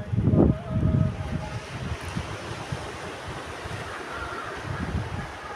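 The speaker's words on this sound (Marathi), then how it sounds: "या समुद्राच्या लाटांची मजा घ्या" Sea waves wash in soft, low surges along with wind buffeting the microphone, including a couple of stronger gusts at the start, fairly quiet overall with no talk.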